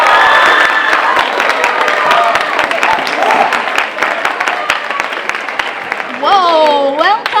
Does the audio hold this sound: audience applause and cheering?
yes